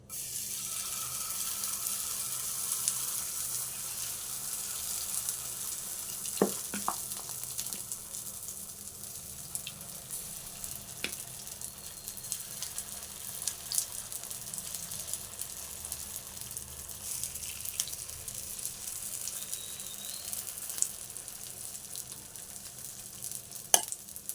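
Dosa batter ladled into the holes of a hot oiled pan, giving a faint, steady low sizzle throughout with a few soft clinks and scrapes, no voices.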